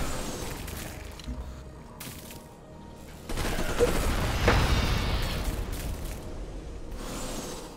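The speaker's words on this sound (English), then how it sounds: "Right now, let's just shoot this guy and then bomb him twice." Turn-based strategy game Civilization: Beyond Earth unit combat: a burst of gunfire and explosive booms from a unit shooting and bombing, fairly loud after a quieter stretch with soft game ambience.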